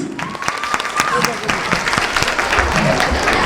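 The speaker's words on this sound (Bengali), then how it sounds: "রাইসুলের জন্য একটা হাততালি প্লিজ" A picnic audience claps for a boy named Raisul, with dense, steady applause throughout that sounds close and loud, mixed with some crowd murmur and voices.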